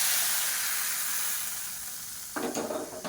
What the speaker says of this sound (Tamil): இப்போ அப்படியே எடுத்து தாளிப்பை இந்த ரசத்தில் சேர்த்துக்கலாம்.